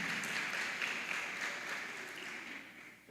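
A church congregation applauding during a revival conference service, a dense, distant wash of clapping that holds steady and then slowly fades.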